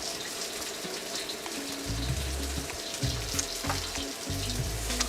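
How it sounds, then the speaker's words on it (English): Beef for crispy Mongolian beef sizzles steadily in a pan with a continuous crackly hiss, and a low humming drone joins partway through. "Yeah, the sizzling. That's my favorite sound too."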